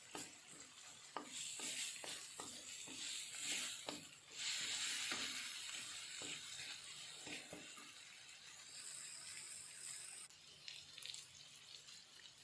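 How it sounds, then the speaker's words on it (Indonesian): Chili paste ground with candlenut, with bruised lemongrass, sizzles quietly in a pan over a low flame while it is stirred. The spoon scrapes in soft, repeated strokes under a steady frying hiss. "Diaduk-aduk, apinya kecil aja."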